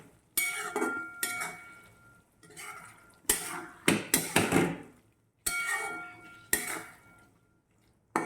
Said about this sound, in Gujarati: હવે આપણે એને બરાબર મિક્સ કરી દેવાનું છે